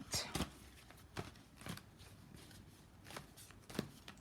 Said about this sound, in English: Let me do one more shuffle and one more split.